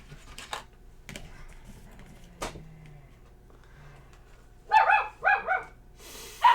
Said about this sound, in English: we're going to hear dogs barking throughout this. That is a 9-week-old puppy that I have in the house